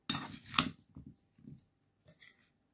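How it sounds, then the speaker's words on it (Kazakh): A spoon stirs a fruit salad mixed with yogurt in a bowl, with a few close, short scraping and clinking strokes at the start that fade to sparse soft taps, then near silence. "Енді араластырамыз салатымызды."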